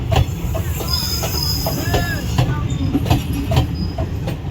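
The 15527 Kamla Ganga Express rolling on rails in Bihar, a continuous close rumble with rhythmic wheel clacks and intermittent thin squealing tones from the wheels.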